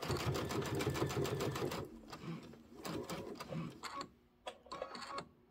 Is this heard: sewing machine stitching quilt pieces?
yes